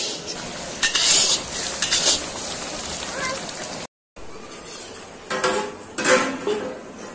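Meat being cooked and stirred in a pot, with clattering bursts of a metal utensil scraping and knocking against the pot, moderately close, in busy kitchen surroundings with a brief gap midway.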